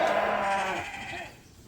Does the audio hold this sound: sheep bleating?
yes